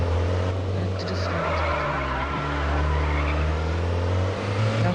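Car skidding and drifting in the Madout2 driving game, with a continuous engine drone and tire squeal held steady and close for the whole stretch, and a voice briefly heard under it.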